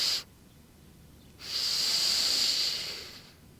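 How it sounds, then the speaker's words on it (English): A yoga practitioner's deep breathing during a strong vinyasa flow: a brief exhale hiss at the start, a pause, then a long, close, airy breath lasting about two seconds and fading out. "Maybe you can hear my breath just so you have a better idea."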